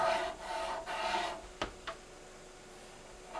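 A cotton swab soaked in rubbing alcohol scrubs the sunroof seal channel of a Porsche 911, giving a close, dry rubbing rasp for about a second and a half, followed by a couple of sharp taps and then quiet.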